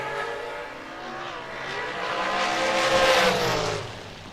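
Drag racing cars at a bracket racing event, including the Miller dragster, a rising engine roar that builds and swells loudly before fading away, heard from a distance.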